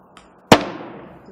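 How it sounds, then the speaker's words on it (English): A hammer strikes a metal clasp pin on an Ankara fabric bag with a single sharp metallic bang that rings briefly, preceded by a faint light tap, close and alone without speech. "Then use your hammer"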